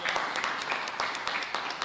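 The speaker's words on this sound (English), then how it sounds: "Give him a round of applause joining us." Audience applause at a Paterson, NJ lead pipe replacement announcement, a steady patter of clapping with sharp bursts throughout, loud and close for a short stretch.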